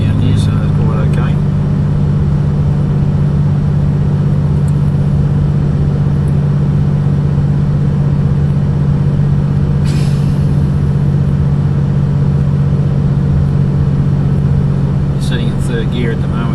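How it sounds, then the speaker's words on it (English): A car engine held in third gear while driving around town, a steady low drone with mild revving that runs throughout, close and constant, with a couple of brief higher noises along the way. "Sitting in third gear at the moment, that's why it's revving a little bit."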